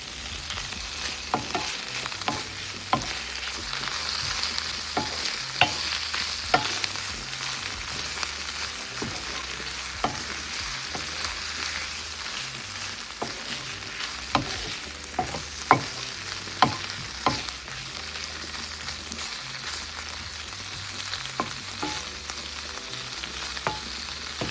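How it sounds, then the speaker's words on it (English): Saltfish fries in a pan for a Jamaican cook-up, giving a continuous close sizzle punctuated by frequent sharp clinks and scrapes of a utensil stirring against the pan, with no talking. "So now we're going to fry up the saltfish."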